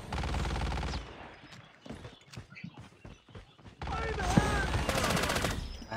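Gunfire in Call of Duty Mobile, with loud bursts of rapid shots at the start and again near the end and scattered single blasts in between, including shotgun fire.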